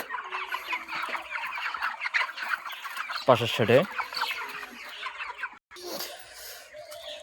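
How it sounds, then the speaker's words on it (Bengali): Chickens on a poultry farm cluck and squawk continuously, a dense flock of around two thousand birds, with a louder close burst midway and someone speaking briefly over the din. "এ সাইডে আমাদের মুরগি আছে ইন টোটাল 2000, অপর সাইডে আছে মুরগি 1500"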